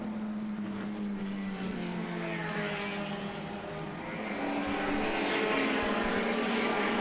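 Aston Martin and Lotus racing cars roaring past on a Goodwood track during a Moss Trophy race, a loud sustained engine drone whose pitch climbs steadily as they accelerate down the straight, getting louder toward the end.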